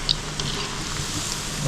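Chicken balls frying in oil over a low flame, a steady close sizzle and crackle with faint popping, no voices.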